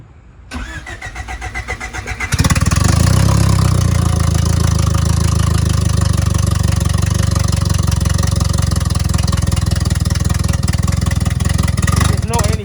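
A car engine on a turbo project, fresh battery just fitted and no antifreeze or throttle hooked up, cranks briefly then catches and roars into a loud, steady run that continues to the end, with voices talking over it.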